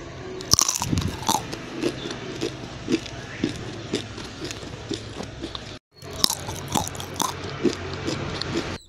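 Crisp cassava flour crackers are bitten and chewed up close, a steady run of loud dry crunches with a brief pause midway.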